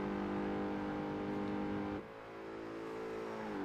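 A Ferrari F50 GT engine revs in the Project Gotham Racing 2 video game, a steady, fairly loud high-pitched drone that drops abruptly midway as the revs fall, then climbs back slowly.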